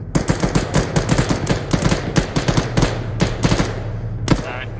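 Rapid bursts of automatic gunfire in the military video game Arma 3, dense overlapping shots crackling close and loud for several seconds with brief gaps between volleys.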